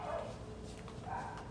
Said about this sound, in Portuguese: Olha que cadelinha bacana que ele tá levando para casa para poder presentear a filha dele.